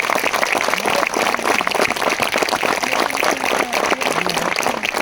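Applause for teachers at an institute's International Day of Persons with Disabilities celebration, a steady crowd of clapping hands mixed with faint background voices.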